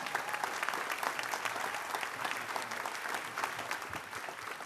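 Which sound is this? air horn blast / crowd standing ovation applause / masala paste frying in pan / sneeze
crowd standing ovation applause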